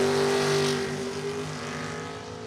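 A drag-racing car, an 80 Corvette or a Mustang, roars at full throttle, loud and close, its steady engine note slowly fading as it pulls away down the strip.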